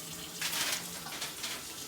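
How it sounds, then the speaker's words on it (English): Handfuls of water splash onto cauliflower and vegetables in a baking dish before oven roasting, heard as a brief close wash of splashing with short gushes. "just add like a couple little handfuls of water"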